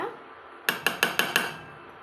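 Spoon stirring dry ginger powder into Aadi paal milk in a metal vessel, five quick evenly spaced clinks, close and crisp, with no talk.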